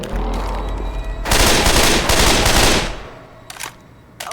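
Assault rifle gunfire in Left 4 Dead 2, a loud sustained automatic burst lasting about two seconds over game ambience, followed by a couple of short sharp shots.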